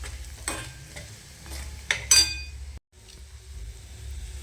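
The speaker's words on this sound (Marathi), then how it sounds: "हे सगळं परतून घेऊ आता आपण." Lentils sautéed with red chili, coriander powder and turmeric in a pan, a soft continuous sizzle broken by a few sharp stirring scrapes and clinks of a spoon against the pan, close by with no talking.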